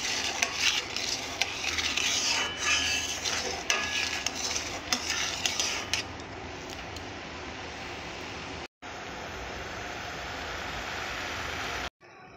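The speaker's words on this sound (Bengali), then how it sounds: "এভাবে অনবরত নাড়তে থাকবো।" Orange jam is stirred continuously in a pan, a spoon scraping and sloshing through thick bubbling syrup in a dense, steady texture, marked by a few sharp clinks early on and two abrupt cut-outs later.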